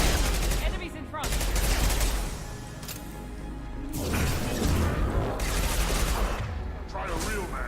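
Sustained rapid gunfire in the Mass Effect 2 video game, with dense overlapping shots, mechanical clatter and whooshes in a loud continuous barrage, broken only by brief dips before the firing picks up again.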